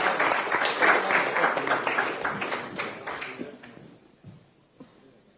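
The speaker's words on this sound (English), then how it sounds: "a round of applause for her" An audience applauds ahead of closing remarks at an evening event in Ghana, a fairly loud burst of clapping that gradually thins and fades to a few scattered claps within about four seconds.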